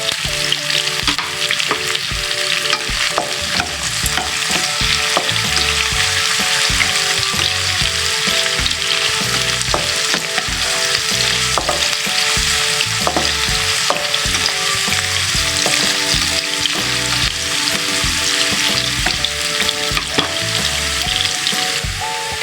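Onion and garlic sauté in a hot pan for squid adobo, giving a loud, unbroken sizzle with scattered crackles and faint stirring scrapes that carries on steadily throughout with no talking.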